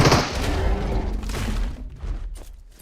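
Gunfire in a battle royale match sounds as dense, close bursts of rapid shots and thumps that fill the short stretch, then thin out toward the end.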